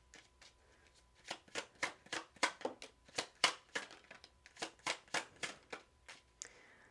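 A deck of oracle cards being shuffled in a tarot-style reading, a quick run of crisp riffling flutters and snaps repeating in a steady rhythm, close and fairly loud with no talking.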